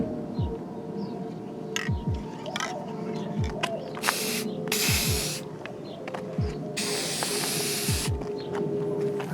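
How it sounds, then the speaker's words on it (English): Guitar screws for an Aria Pro II RS Wild Cat get a coat of black spray paint in three loud hissing bursts, the longest near the end, set against a steady background hum and a few scattered clicks. "I'm gonna go ahead and put a little black paint on these screws"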